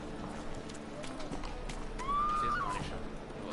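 Horse in The Witcher III whinnying with a rising, drawn-out neigh midway, over a steady game soundscape of hooves and ambient noise, with faint talk beneath.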